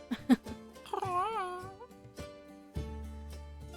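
An owl cat in the fantasy merchant simulator game Craftcraft meows in a short, bright, wavering call, preceded by a couple of quick clicks and followed by a low hum of game music, with no talking.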